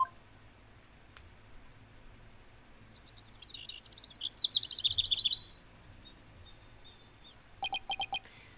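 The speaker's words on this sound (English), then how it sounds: "why are the birds so loud?" Loud birds chirping in a mountain setting within the Apollo Justice: Ace Attorney Dual Destinies video game, with a burst of rapid repeated tweets midway and a shorter trill near the end over a quiet background.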